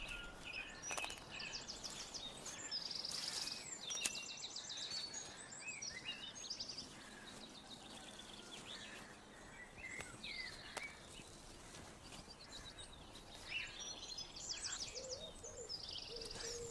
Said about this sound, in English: one of these little robins appeared within a couple of days